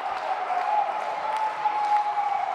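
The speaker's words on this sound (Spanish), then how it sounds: "el público ovación, el público incluso utiliza los pies para crear mayor ovación" Wrestling arena crowd at a lucha libre match giving an ovation, a steady dense wash of applause and cheering with stamping feet, loud and continuous throughout without a clear break.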